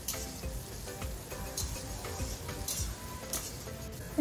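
Three colors of capsicum and green chillies fry lightly in oil, with a faint sizzle under repeated close scrapes and clinks of a spatula against the pan.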